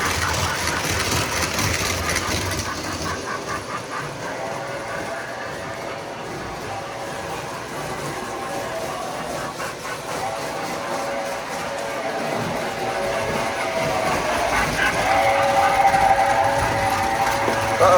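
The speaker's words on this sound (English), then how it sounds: "So the O gauge one we're going to run is the Pure Marquette." An O gauge Pere Marquette model passenger train from 1994 running on track, a continuous loud rumbling hum with clattering wheels and a whistle-like tone building toward the end.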